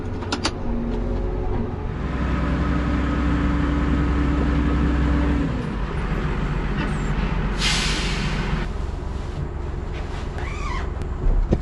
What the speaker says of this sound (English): Right, better get the tractor back home.